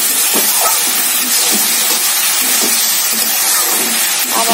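Water boiling under a lid in a covered pot of bottle gourd peel, giving a loud, steady hiss of steam throughout with faint bubbling.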